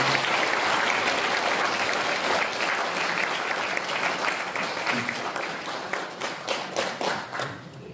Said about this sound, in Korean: 우리 반혜성 교수님과 노래해주신 경기도 대한애국부인의 합창단 여러분들께 다시 한번 큰 박수 부탁드리겠습니다.